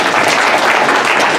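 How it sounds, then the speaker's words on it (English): Audience applause at a book launch event in Delano, a dense, steady clapping filling the whole short stretch at close range. "applause"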